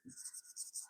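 Chalk or marker writing on a board in a Class 10 maths lesson, a run of close, scratchy strokes in quick rhythmic bursts, with a brief low thump at the start and no talk over it.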